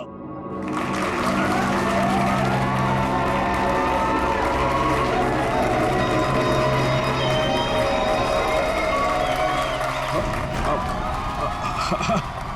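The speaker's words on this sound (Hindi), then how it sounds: "तालियां!" An audience at a magic show breaks into loud, sustained applause and cheering, a dense crowd roar with voices mixed in that persists throughout.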